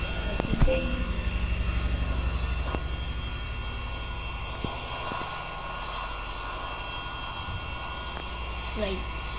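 Droning aircraft engine in a flight simulator game, a steady hum with layered tones running throughout, with scattered clicks and brief sounds on top.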